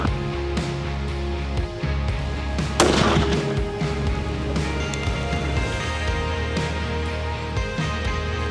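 One loud, sharp rifle shot cracks out near the start, followed by a low rumbling background for the rest.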